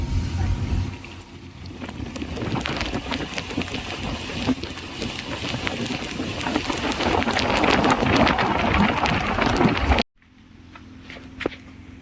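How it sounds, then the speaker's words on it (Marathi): Heavy rain pours in a mountain pass along the Pawankhind route, a loud dense hiss of drops striking surfaces for about ten seconds before cutting off abruptly to a much quieter tail, with some talk mixed in. "आता जोरात पाऊस चालू आहे घाटात"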